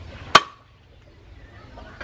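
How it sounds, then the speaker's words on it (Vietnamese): A single sharp chop from a cleaver striking hot cooked ducks for Bình Thuận duck noodle soup, one close, crisp thwack followed by quiet kitchen background. "chặt hai con vịt này ra nha"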